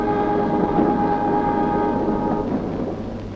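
A 1952 Australian train's steady whistle or horn tone sounds over a low rumbling of the moving train near Murray Bridge, continuous and fairly loud throughout.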